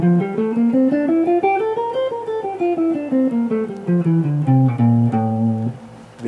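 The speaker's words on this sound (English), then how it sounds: "There's your Phrygian mode." A Phrygian mode scale, a natural minor scale with a flat second, played note by note up and then back down in a steady rhythm, ending on a held low note, clear and close with no voices.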